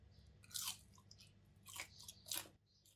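Crispy fried chicken coated in homemade crispy flour, bitten and chewed up close in three distinct crunchy bites with soft chewing between, no talking.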